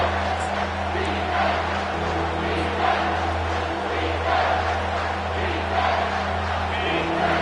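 Football stadium crowd roaring steadily during a red zone defensive stand after a timeout, a dense sustained wall of cheering and shouting with no pauses.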